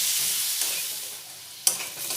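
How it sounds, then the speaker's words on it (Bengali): Potatoes seasoned with salt fry in a pan, giving a faint, steady sizzle with a sharp clink of a spoon near the end. "স্বাদ মতো নুন, দিয়ে খুব ভালো করে আলুগুলো ভেজে নেব"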